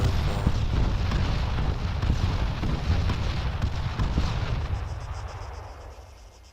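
Artillery fire in the Arma 3 video game: a dense, continuous barrage of deep booms and rumbling explosions that rolls on loudly and then slowly fades out toward the end.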